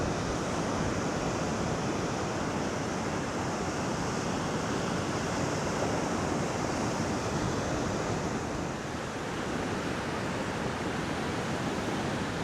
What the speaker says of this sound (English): Look at that ocean.